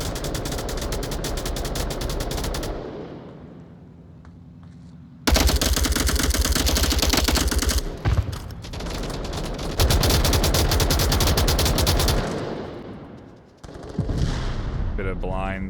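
Rapid automatic gunfire in the VR shooter Onward during a competitive match, loud bursts with brief pauses and a commentator's voice running underneath.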